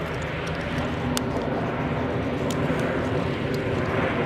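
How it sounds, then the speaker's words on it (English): An aircraft flying a display at the RIAT 2014 airshow roars steadily overhead, a loud continuous engine drone with sharp clicks from the crowd area, heard from the ground at a distance. "Now the aircraft is on top of the building and swooping down."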